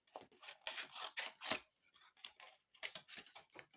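Scissors snip through paper for a mushroom craft piece, a close, quiet run of rhythmic crisp cuts and rasping slides, with brief pauses between strokes.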